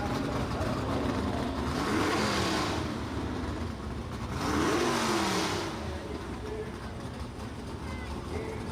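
Supercharged-era Superstock drag cars, including a 1962 Chevy II, roar and rev at the strip with engine swells rising and falling twice, loud and continuous, with an announcer talking over the noise.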